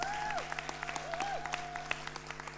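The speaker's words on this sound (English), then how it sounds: "just give yourselves another big round of applause" Audience at a youth poetry slam in Scotland claps, a fairly faint, scattered patter of applause with individual claps standing out, while a steady tone and gliding electronic pitches sound over it.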